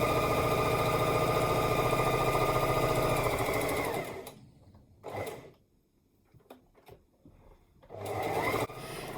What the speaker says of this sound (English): So I've just got my Singer sewing machine.